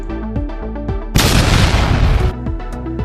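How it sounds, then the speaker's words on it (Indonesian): Explosion sound effect for a gas lighter blowing up beside a kitchen stove: one sudden loud burst of noise that roars for about a second over a steady plucked musical background, then ends abruptly as the music continues. "Jadi si korek gas yang tadi di samping kompor itu langsung meledak."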